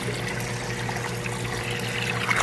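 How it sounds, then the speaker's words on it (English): Water is poured into a plastic acclimation bag holding newly delivered eels from a delayed fish shipment, a steady close trickle and splash running for a couple of seconds with no talk. "Add more water this one."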